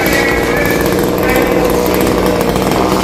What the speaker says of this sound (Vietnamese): cưa cái phần nhánh của cây xà cừ đó là xong rồi